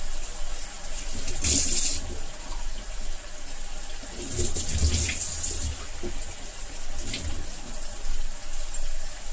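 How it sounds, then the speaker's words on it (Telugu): Water runs and splashes in a few bursts as a small tea glass of water is poured into a cooking pot of raw banana curry, with some clattering, close by. "చిన్న టీ గ్లాసుడు వాటర్ వేస్తున్నాను"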